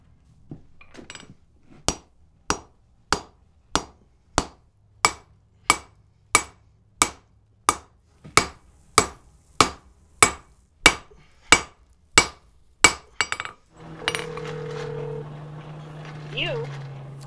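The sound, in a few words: hammering 1-inch round wrought iron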